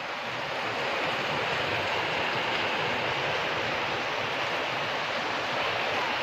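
Sudden heavy rain pours outside a village house, a dense, steady roar of falling water that stays loud and unbroken throughout.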